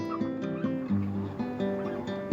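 Chickens with their chicks in a backyard coop, a close run of overlapping clucks and clucking calls repeating in short bursts, with no talk.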